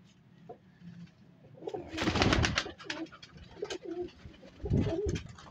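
Desi pigeons coo in low, throaty bursts, several close calls rising and falling with short pauses between them.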